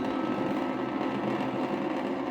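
A Philips Sonicare 2100 sonic electric toothbrush runs with its brush head vibrating, a steady close buzzing hum that holds an even level throughout with no talk.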